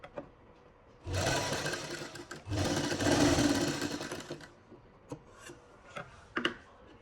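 A sewing machine stitching a sleeve onto a shoulder seam, two loud sustained bursts of fast whirring close by, followed by quieter handling clicks and rustles.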